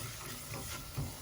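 Green mango pickle with ginger and curry leaves being stirred in a pan over a low flame, a soft steady scraping and sizzle with a brief louder scrape near the end, no talking.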